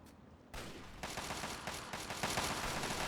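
Sustained minigun fire from a brute in Fallout 3, a rapid, dense rattle of shots that starts abruptly and continues loud and unbroken, with no talk over it.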